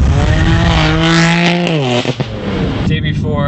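Tuned BMW M4 running E85 with about 520 wheel horsepower, an aftermarket exhaust and downpipe, revving loudly up close, its engine note rising and falling in a strong sustained drone with a brief dip near the end.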